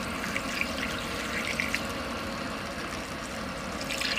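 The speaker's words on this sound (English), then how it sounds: "So now I'm going to fill this with warm water" Warm water running from a tap into a sink strainer, a steady, moderately loud rushing flow with faint trickling and splashing, heard alone.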